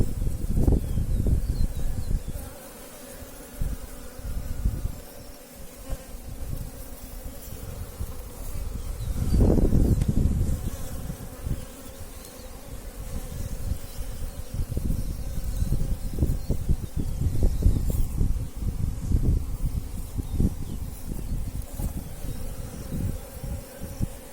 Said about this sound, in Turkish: ızgaranın üstüne kalmış erkek arılar çıkıyor.